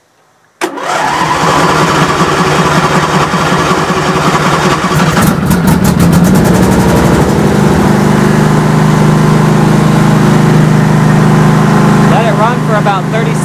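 An Ariens hydrostatic riding lawnmower engine cranks and catches, then runs on full choke with a loud, steady, slightly uneven rumble close by.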